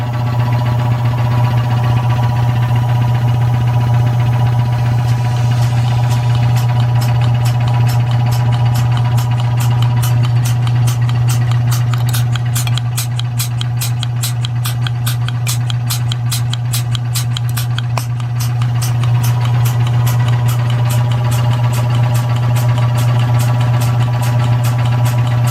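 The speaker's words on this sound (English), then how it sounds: "Now that the pump is working, I want to give it a proper test run." Restored 1940s Surge vacuum pump running on a test, giving a loud, steady low hum and drone throughout, with a rapid mechanical ticking pulsing through the middle stretch.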